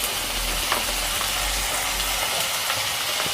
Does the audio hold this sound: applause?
no